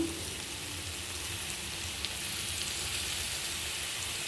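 Ridge gourd pieces frying in oil with onions for a simple curry make a soft, even sizzle that hisses steadily for a few seconds, with one faint click and no speech.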